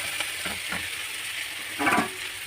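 Taro pieces frying in a pan as Malabar spinach goes in, a soft continuous sizzle broken by a few light stirring scrapes and a louder burst of hissing near the end.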